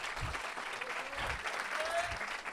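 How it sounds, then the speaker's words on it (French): Warm applause from a church gathering carries steadily for a couple of seconds, a mass of hands clapping at moderate distance with some murmuring voices underneath. "est-ce qu'on peut l'applaudir pour les boucliers?"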